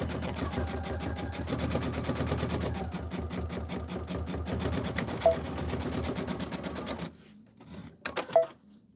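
A sewing machine stitches in a fast, even mechanical patter, loud and close, running steadily for several seconds before stopping into a few scattered clicks and knocks.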